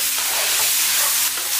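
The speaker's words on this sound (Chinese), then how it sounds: "像这样翻炒至调料化开，我们的茄子就做好了" Eggplant and green peppers stir-fry in a pan with seasonings, giving a steady, loud hiss and crackle of frying punctuated by soft scraping as the food is tossed, with no talk.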